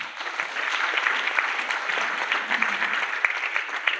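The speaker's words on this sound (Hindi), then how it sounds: "अरे सर के लिए जोरदार ताली" Audience applause at a ULP program in Guwahati, an even, sustained patter of many hands clapping at moderate loudness with no voices over it.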